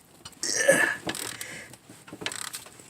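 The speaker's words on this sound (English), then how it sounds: "I'm gonna use my ratchet, finish taking them out." Ratchet wrench backing out brake bolts on a 2006 Chevy Equinox front brake job, several bursts of close, quick clicking with pauses between turns, no talk.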